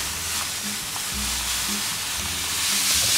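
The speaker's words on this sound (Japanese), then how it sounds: "フライパンに火をつけて、できるだけ弱火にします。 じっくりと。 で、そこにごまを入れていきます。" White sesame seeds toasting in a frying pan over very low heat, a steady soft dry crackle and hiss with faint scraping as the seeds are moved, close and continuous with no talking.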